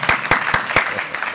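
Four slow, deliberate hand claps from a single person ring out close and evenly spaced at a college football Celebration Bowl press conference, with room echo between them.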